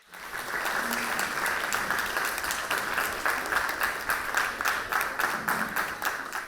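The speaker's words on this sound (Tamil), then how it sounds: "தயவுசெய்து எல்லாரும் கைத்தட்டுங்க" Audience applause fills a hall at Nethrodaya's Achiever's Meet 2024, a dense, steady wash of many hands clapping that holds at an even level for several seconds.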